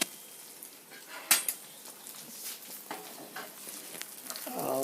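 An omelet fries in a pan with a soft, steady sizzle, broken by a few sharp metallic clinks of a utensil against the pan early on and some louder spatter near the end.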